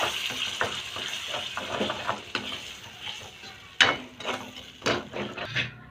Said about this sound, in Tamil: லோ ஃப்ளேமில் வச்சு தயிர் ஆட் பண்ணி மிக்ஸ் பண்ணி விட்டுக்கோங்க.